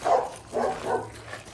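A dog barking nearby during a leashed dog walk, a few muffled, soft woofs in a short cluster, moderately distant with outdoor background and no talking.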